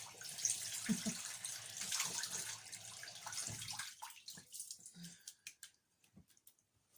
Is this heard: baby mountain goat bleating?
no